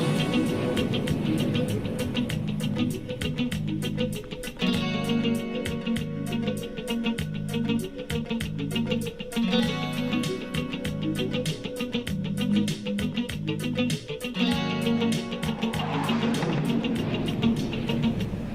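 Two guitar parts for a song play together in a steady groove, one with clipped muted strums, the other with sustained chords and a repeating low pattern, continuous and fairly loud with no voices.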